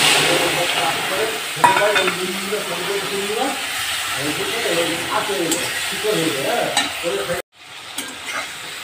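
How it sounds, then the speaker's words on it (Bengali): Farmed prawns frying in a pan at home, a steady close sizzle with bursts of stirring and clinking of utensil against the pan, while someone talks over it throughout. "এবার চিংড়ি মাছটা ভাজবো"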